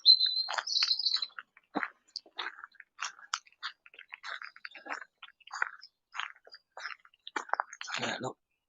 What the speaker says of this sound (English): just listening to all the birds, oh wow